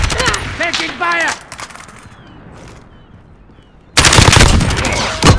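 Automatic gunfire in Modern Warfare during a Domination match rattles in loud bursts at the start and again at the end, with a quieter stretch between and game radio voices speaking.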